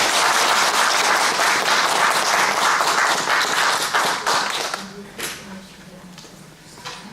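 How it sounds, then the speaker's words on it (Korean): An audience at a humanities lecture welcomes a university professor with loud, dense applause. It holds steady for about four seconds, then thins into scattered claps and fades away. "큰 박수로 맞아주시면 감사합니다"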